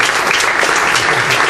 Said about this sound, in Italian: chiedo un applauso forte di incoraggiamento